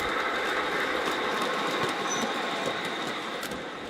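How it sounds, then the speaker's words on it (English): Thomas and Percy model trains run steadily around a trick layout, giving a continuous close rattle of wheels on track with light metallic clicks and faint squeals throughout, with no talking. "while the trains are working their way around the layout again"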